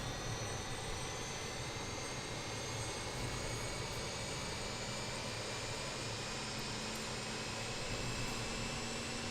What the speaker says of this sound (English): And that will start the engine.